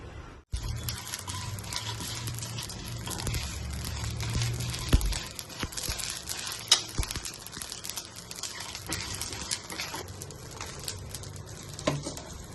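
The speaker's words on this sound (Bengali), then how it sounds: "তো তার আগে শুকনো খোলাতে এটা একটু ভেজে নিই" Whole spices dry-roasting in a dry pan for a Kolkata-style egg chop spice powder: a steady close crackle and rustle with scraping stirs and occasional sharp clinks against the pan, with no talking.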